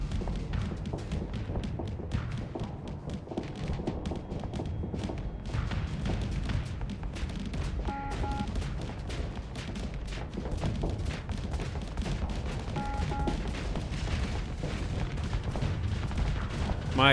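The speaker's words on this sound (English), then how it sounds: "My missiles just got exploded immediately." Explosions and rapid weapon fire in the space combat game Starsector as missiles are destroyed, a dense continuous barrage of thuds and blasts with sharp bursts throughout.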